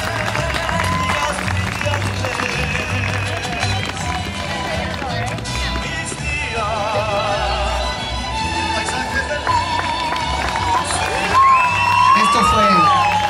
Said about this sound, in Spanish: Esos aplausos, aplausos que se escuchen.